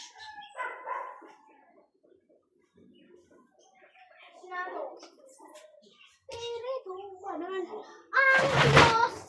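A dog barks nearby, the loudest burst coming near the end, amid children chattering and talking back and forth in a home setting.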